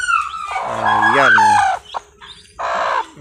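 A broody hen gives a loud, drawn-out call up close, followed by a couple of shorter clucking bursts.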